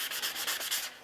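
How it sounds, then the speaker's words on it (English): Sandpaper rubbing over a small wooden J-plug trolling lure, a close scratchy back-and-forth with about five quick strokes in a row. "Let me do a little bit of sanding before I install the rivet."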